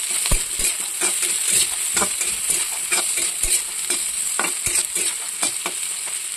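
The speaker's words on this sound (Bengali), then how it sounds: "যতক্ষণ দেখো বিনস আলুটা ভাজা হচ্ছে" Beans and potatoes frying in a pan, an even sizzle punctuated by sharp spatula taps and scrapes at irregular intervals, close by.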